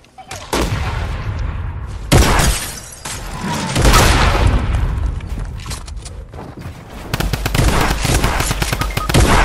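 Rapid drum gun fire in a Fortnite-style battle royale shooter, loud dense bursts of automatic shots in several stretches with brief gaps, up close over game effects.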